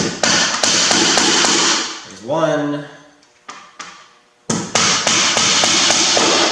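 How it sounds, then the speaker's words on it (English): Nails are hammered part way into a wooden bat house, with sharp repeated taps at the start and end and a pause of talk in between. "I'm going to start out by hammering the nails in here part way."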